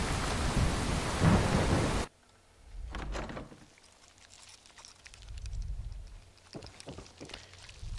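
Rain and rolling thunder in the video game Fallout 4: a loud burst of heavy downpour, then a sudden cut to quieter rain with low thunder rumbles swelling and fading, and brief sharp crackles.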